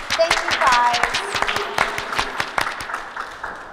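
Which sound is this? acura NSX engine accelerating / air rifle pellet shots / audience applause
audience applause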